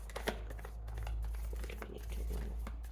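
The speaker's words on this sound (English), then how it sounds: "Two more shuffles." Tarot cards being shuffled give a run of quick papery riffles and soft clicks, close and steady, over a low constant hum.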